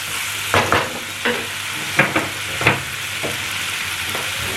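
Radish and tomato being stirred in a hot frying pan, with a spatula scraping in several distinct strokes over a steady background sizzle, close and fairly loud, with no talking.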